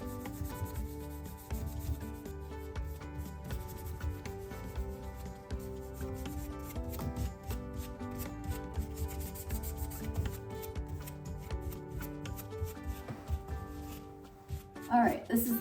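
Rub and Buff wax being worked onto a PVC pipe by hand: a soft, steady scrubbing and rubbing with a fairly even rhythm, faint beneath background music and a person talking.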